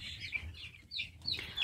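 Chickens cluck and peep close by, several short calls in quick succession over a quiet low background.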